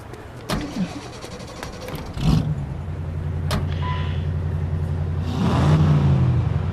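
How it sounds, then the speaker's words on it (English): A car in the WWII game The Saboteur: a door thunks shut, the engine starts and settles into a steady idle, then revs louder as the vehicle pulls away. "That's my car there. I'll drive."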